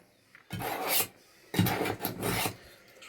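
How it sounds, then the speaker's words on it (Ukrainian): A kitchen knife being sharpened on a handheld sharpener: three close, rough rasping strokes, each about half a second to a second long, with short pauses between them and no talking. "Ти не бачу, як я точу ножа."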